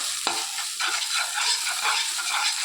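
Pointed gourd (potol) paste stirred and frying in hot oil in a pan, a steady close sizzle with scraping stir strokes and a sharp spatula knock near the start.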